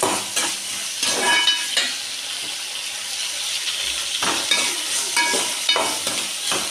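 Eggplant sizzles steadily in hot oil while a utensil scrapes and stirs the pan in repeated strokes, close up and fairly loud.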